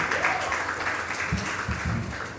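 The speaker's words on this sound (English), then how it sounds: "Let's have a huge round of applause for Falguni V. Oza." An audience at a Mumbai social media conference event breaks into sustained applause, a dense wash of clapping that stays steady for the whole stretch.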